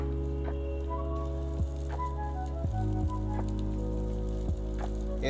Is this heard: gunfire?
no